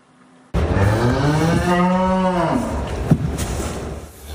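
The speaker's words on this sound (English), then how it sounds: "These triplet heifer calves were born at Lucky 7 Cattle Company, 2 hours southwest of Edmonton." Newborn triplet heifer calves on an Alberta cattle farm give a single long, loud moo that bends in pitch, close by, followed by faint rustling.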